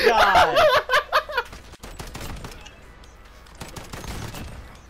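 Gunfire in a shooter video game, rapid bursts of shots at the start that give way to scattered quieter shots and game noise, while a player reacts with laughter and vocal outbursts.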